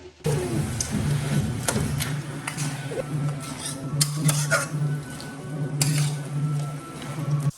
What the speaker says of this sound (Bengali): বাঁধাকপিটা পুরোটাই দিয়ে দিলাম সবটা দিয়ে ভালো করে মিশিয়ে দিলাম